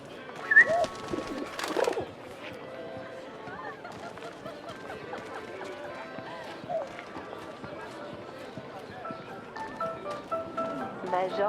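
Pigeons coo in a Paris scene of the video game 11-11 Memories Retold, a soft warbling over a busy game soundtrack and ambience, with a louder burst near the start.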